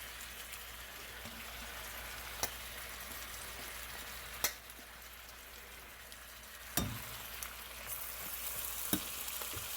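Squash frying in a pan on high heat gives a continuous, even sizzle with scattered small pops and a few louder clicks, heard alone and at moderate distance.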